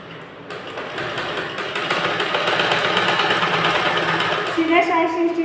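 A sewing machine stitches a blouse with a continuous close whirring hum that builds slightly and changes near the end, under someone talking.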